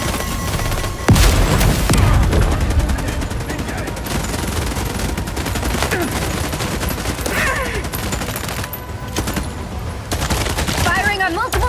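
Heavy gunfire on multiple targets in the sci-fi game The Expanse: Osiris Reborn, sustained rattling bursts and booming shots over about twelve seconds, loud and close, with voices calling out over the shooting.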